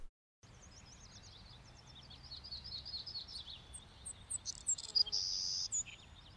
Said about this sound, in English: we should hear that those bird ambiences fade in